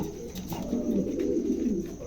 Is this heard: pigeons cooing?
yes